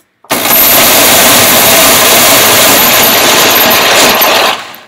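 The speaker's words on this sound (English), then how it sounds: "Right now that shaver's barely turning, it's struggling." An electric shaver's motor drones loudly and steadily for several seconds, barely turning and struggling on low power, starting abruptly and cutting off at the end, with a strained, labored tone.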